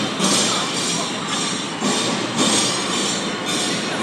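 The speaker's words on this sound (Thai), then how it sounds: "รถไฟฟ้าก็วิ่งมาอีกแล้วเนี่ย" An electric train rumbles steadily past with rhythmic clacking and a high squeal of wheels on rails, loud and continuous throughout.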